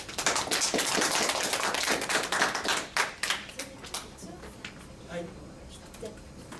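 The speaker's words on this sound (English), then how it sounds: "Please welcome him with a big applause." Audience applause greeting a keynote speaker at an AI round table in Tokyo: loud, dense clapping that gradually thins out to a few scattered claps by the end.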